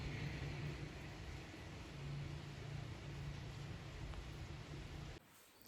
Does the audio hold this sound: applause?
no